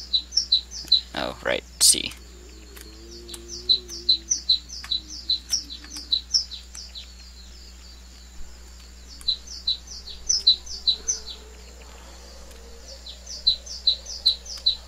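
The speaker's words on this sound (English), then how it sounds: "that bird sound is killing me" Repeated sharp bird chirps from a video game zombie survival setting in WarZ, sounding in quick bursts throughout, with someone talking briefly early on and a low steady hum underneath.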